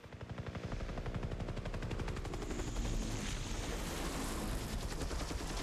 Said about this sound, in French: Ok, il y a un hélicoptère déjà.